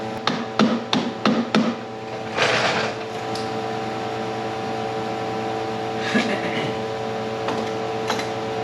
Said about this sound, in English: Now we push that bolt out.